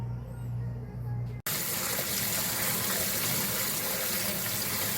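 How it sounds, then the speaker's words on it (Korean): Neungi mushrooms being rinsed under a running tap, water gushing steadily into a sink after a brief quieter moment at the start, loud and continuous with no talking. "세척을 한 5회 이상 해줍니다."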